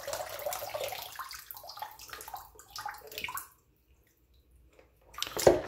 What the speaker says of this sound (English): then I'm going to want to drain the water a little bit halfway there